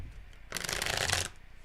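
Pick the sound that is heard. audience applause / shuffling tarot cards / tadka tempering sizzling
shuffling tarot cards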